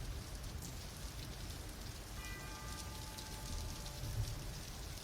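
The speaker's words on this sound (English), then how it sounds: "and we get some rain sounds" Rain sounds on the opening of a Black Sabbath recording, a steady hiss of rain falling on a surface that sounds even and fairly distant, with a faint tolling tone ringing out partway through.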